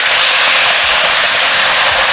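Boiling water hits a hot pan of fried mandarin fish, a loud, continuous rushing hiss of steam and spatter right up close.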